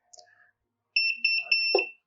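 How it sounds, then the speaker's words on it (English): The remote of a Cuta Copter T10 fishing drone gives a short run of high electronic warning beeps, close and clear, after a few faint sounds. "You will notice that the remote is now beeping, and that is a warning to tell us that the craft is not connected."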